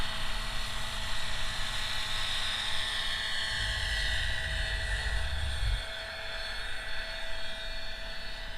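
An 800-size Roban EC130 scale RC helicopter with Fenestron tail flies steadily, its high turbine-like whine and rotor drone continuous and fairly close, a heavier low rumble swelling mid-flight then easing.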